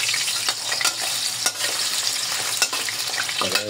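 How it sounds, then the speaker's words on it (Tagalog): Potato pieces frying in hot cooking oil, giving a steady close sizzle and crackle with occasional stirring clicks and no voices. "Unahin muna natin tong ating patatas. Prito natin sa may sweetie na mantika."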